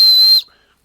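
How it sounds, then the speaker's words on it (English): A whistle built into a tactical pen gives one sharp, steady high-pitched blast of under half a second. It cuts off abruptly and leaves near silence after it. "my tactical pen with a whistle"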